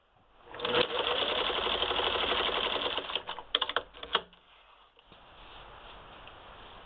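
A Singer 15-91 sewing machine fitted with an antique automatic zigzagger stitches a wide, long zigzag in a steady close whir, then stutters through a few brief bursts before stopping.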